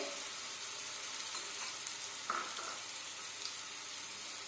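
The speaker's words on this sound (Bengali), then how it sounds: "তেলে দিয়ে দিলাম এবার ছোলার ডালটা" Chana dal with green chilli paste frying in oil, a faint, steady sizzle with a couple of soft clicks from a spoon and no talking.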